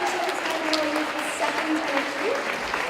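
Girls at a school assembly get a round of applause from the gathered students, steady clapping held at an even level throughout, with some voices faintly mixed in.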